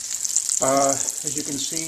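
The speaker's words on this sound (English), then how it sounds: "the veal brain pieces are frying up." Breaded veal brain pieces frying in a pan give a steady, close sizzle throughout, with a person talking over the cooking.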